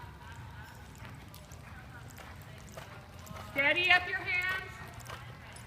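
Horse loping in a riding lesson, with soft, rhythmic hoof thuds of the three-beat gait running under the setting's noise, while a woman gives instructions partway through.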